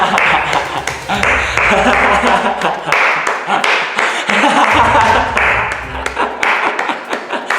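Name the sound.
clapping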